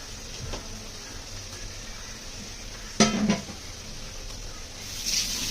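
A utensil stirs freshly grated coconut into a vegetable in a pan. A quiet stretch is broken by a sharp metallic clank and a brief scrape against the pan midway.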